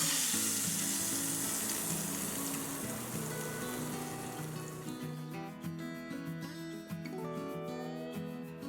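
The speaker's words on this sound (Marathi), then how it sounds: "आपण एकदा मोहरी तडतडली की गॅस कमी करूया किंवा बंद केला तरीही चालेल" Mustard seeds crackle and sizzle in hot oil while tempering for a raw mango takku, a steady dense frying hiss that thins out toward the end, close and continuous with no talk.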